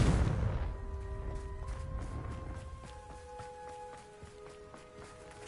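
A Confringo blasting spell fires in Hogwarts Legacy, opening with a loud low boom that fades into a crackling, ringing tail with sustained magical tones, heard alone with no voices.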